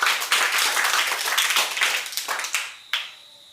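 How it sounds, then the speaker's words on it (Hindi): An audience claps loudly and steadily after a correct answer at a Hindi general-knowledge quiz modeled on Kaun Banega Crorepati, a dense burst of many hands that thins into a few scattered claps over about three seconds. "ताली बजाइए जोर से।"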